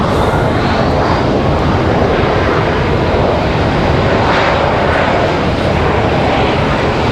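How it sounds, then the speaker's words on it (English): A Delta Airbus A220 jet departs Raleigh-Durham at night bound for Boston, its engines a loud, close, sustained roar that fills the air without letup. "Another Delta departure. I think this is our A220 back to Boston here."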